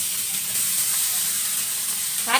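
Blanched mussels, shrimp and squid stir-fried in sizzling chili paste, a steady close hiss of frying with a brief louder burst of sizzle at the end, no talk.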